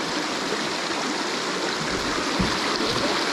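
Steady, full rush of a clear river flowing at a popular free bathing spot, continuous broadband water noise with no pauses, close and loud.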